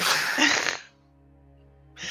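A voice imitates a sneeze with a loud breathy burst, followed by a brief pause and another breath.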